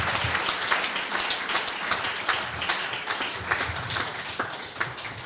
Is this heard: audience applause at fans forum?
yes